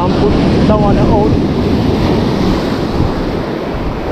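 Rough sea surf washes and rumbles steadily against a Jamaican shoreline, loud and close, with strong wind buffeting the microphone throughout.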